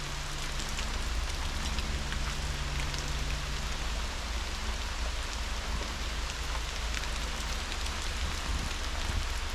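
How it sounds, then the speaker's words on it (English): Heavy rain falling steadily outside an off-grid cabin, a dense even hiss of drops with a low background hum, continuous and unbroken. "Pretty relaxing listening to the rain out here."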